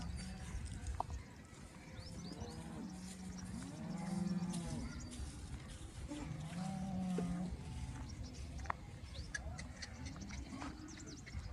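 HF dairy cows mooing at the Loni cattle market, several low drawn-out moos at middle distance over a steady crowd murmur and market din.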